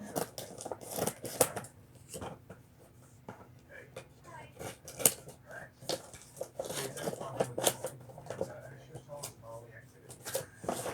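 Scissors snip and slice through the packaging of a Pyrotronics 500-69-64-73 standalone strobe fire alarm, giving close, irregular crisp cuts and rustles with someone talking quietly between them.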